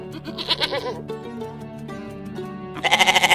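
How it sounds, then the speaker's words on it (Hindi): Several goats bleat in a farmyard, with repeated wavering calls that come in bursts near the start and again louder at the end, over a steady background. "गोपाल के पास 4 बकरियां थी।"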